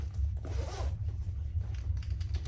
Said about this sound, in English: And we're gonna align and baste in place that zipper.